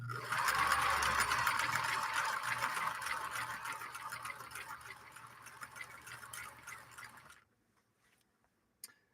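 A 1958 Husqvarna Viking Type 21 sewing machine stitches with a steady whirring hum that gradually slows and fades over about seven seconds, then stops, leaving near silence and a single faint click.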